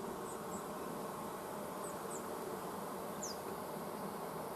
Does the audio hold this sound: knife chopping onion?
no